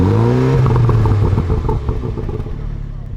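Exhaust of a 2019 MINI Cooper S JCW idling and blipping loudly up close, a steady engine drone with a rise and clattery burble that settles back down over a few seconds.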